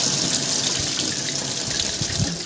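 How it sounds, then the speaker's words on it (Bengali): Tap water runs steadily into a sink while lentils are rinsed in a home kitchen, a continuous close splashing stream with no voices. "আর ডাইল পালা টিকতে ধোয়া লাগে"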